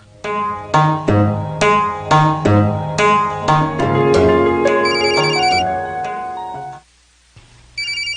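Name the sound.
cellphone ringtone ringing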